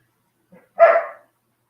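A hunting dog gives one sharp, loud bark at close range on a Wisconsin bear hunt, preceded by a faint short yip, then silence.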